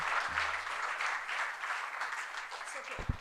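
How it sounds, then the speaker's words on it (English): Audience applause at a university orientation event, a steady broadband patter of clapping held at moderate level for about three seconds, slightly uneven and trailing off toward the end with a faint thump. "So a big round of applause for my team."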